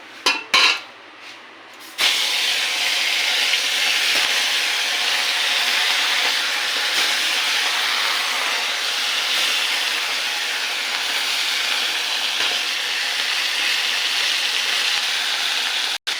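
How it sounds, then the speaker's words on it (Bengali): Bhola fish dropped into hot oil, giving a sudden loud burst of steady hissing sizzle after a few clinks that stays strong and even throughout, close and without voices. "তেল গরম হয়ে গেছে, এবার মাছের তেলে মাছ ছেড়ে দেবো"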